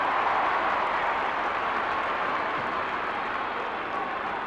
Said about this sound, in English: Listen to the crowd as he comes in.